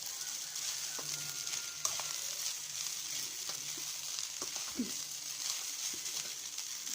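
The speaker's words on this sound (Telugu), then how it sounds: "ఫ్రైడ్ రైస్ కూడా మనకి బాగా ఫ్రై అవ్వాలి, చక్కగా ఫ్రై అవ్వాలి" Chicken fried rice sizzles and fries in a pan over a high flame, a steady hiss with occasional scraping stirs and light clinks, with no talking.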